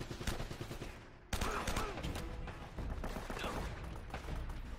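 Rapid gunfire from a newly picked-up weapon in the video game Uncharted: Drake's Fortune, dense bursts of game shots with loud, continuous action and a brief drop in the middle before firing resumes.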